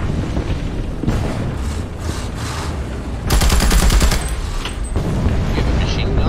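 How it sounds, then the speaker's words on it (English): Machine-gun fire in the War Thunder combat game, a loud sustained burst of rapid shots over rumbling battle noise, with heavier booms and a voice briefly audible. "You have a machine gun as well."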